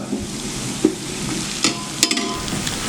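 Onions fry in a pan for a biryani, with a continuous close sizzle and a few sharp scrapes of a spatula stirring them, no voices.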